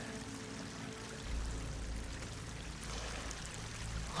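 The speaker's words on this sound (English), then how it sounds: "Water's coming in." Water rushing and pouring into an enclosed space in the video game Horizon Forbidden West, a continuous stream that swells slightly after the first second and holds steady.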